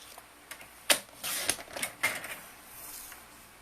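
A paper trimmer slices through card, heard as a few sharp clicks and a brief scraping cut, close and fairly quiet over a faint background.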